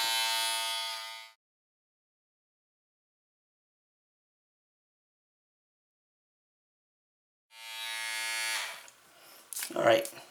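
Cordless men's hair clippers with an LCD display buzz steadily at close range for about a second, fall silent for several seconds, then buzz again before a few rustling cutting noises and brief handling sounds.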